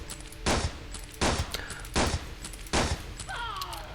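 A cave gun firing in the video game Planetside 1, four loud, evenly spaced bursts of gunfire roughly every three quarters of a second, with a faint electronic whine trailing after the later shots.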